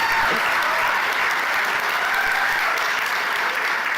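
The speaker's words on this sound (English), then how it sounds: "Can we have one last round of applause for our panellists and judges?" Steady, loud audience applause fills the full span for debate panellists and judges at a Harmony Week 2018 debate, a dense even clatter of many hands with no voices over it.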